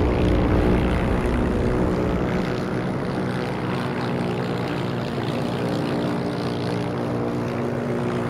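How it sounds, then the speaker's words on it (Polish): Propeller airplane engine droning steadily in the Heroes & Generals video game, a loud continuous hum with a throbbing low rumble that holds for the whole stretch without letting up. "A się fajnie tu samolotem lata."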